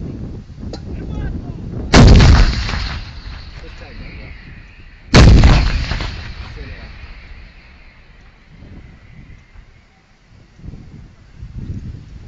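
Two heavy artillery blasts boom out a few seconds apart during shelling of a city in the Donbas conflict, each a sudden loud crack with a long rumbling tail, amid wind noise and distant voices.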